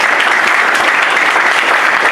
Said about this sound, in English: please let the applause be louder for the man of vision and integrity, the man of the moment